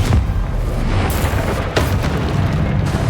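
A Confringo blasting curse goes off in a Hogwarts Legacy duel, landing as a loud, deep booming blast with a crackling burst around the one-second mark, followed by a sustained rumbling roar throughout.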